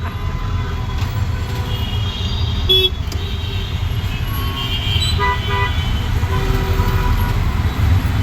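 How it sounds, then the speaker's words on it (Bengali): Dhaka city traffic jam with a constant low engine rumble and scattered horn toots, some brief and some drawn out, heard close amid the heavy street noise. "এই ঢাকা শহরের জ্যাম"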